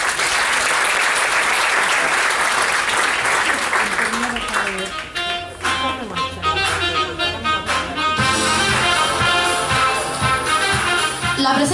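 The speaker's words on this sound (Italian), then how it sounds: "lo salutiamo con un applauso" An Italian audience claps warmly at an evening cultural event, the applause loud and dense for the first few seconds before fading into music with sustained tones and rhythmic beats that carry on to the end.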